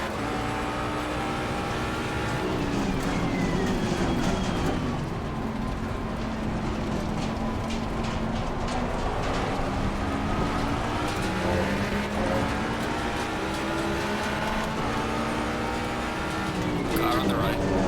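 Racing car engines in Assetto Corsa Competizione race against bots, several engines droning and shifting pitch continuously as cars run side by side, loud and steady throughout with occasional passing whines.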